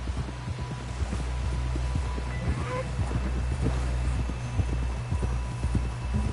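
Horse hooves clip-clopping in the Red Dead Redemption 2 video game: a steady, close, rhythmic stream of hoofbeats over a low hum and light wind, with brief voices in the background.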